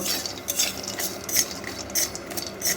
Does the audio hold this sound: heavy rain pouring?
no